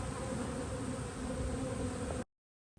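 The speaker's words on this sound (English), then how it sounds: "The bees are finding their way in and out." Honey bees buzz steadily and close as they fly in and out of a Hive IQ hive after a nuc install. The dense drone runs unbroken for about two seconds, then cuts to silence.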